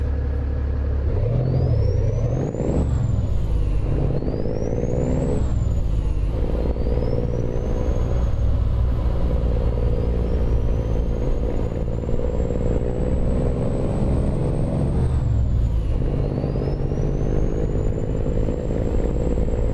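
Peterbilt 389 engine sound playing in a Lone Star truck in American Truck Simulator: a steady, loud diesel drone with deep rumble and whine that rises in pitch during gear climbs, continuous throughout with no talk.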